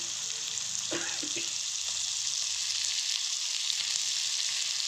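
Finely chopped onions frying in oil with chili-ginger paste for aloo paratha filling, a steady bright sizzle throughout with a few soft stirring scrapes early on, close and unbroken.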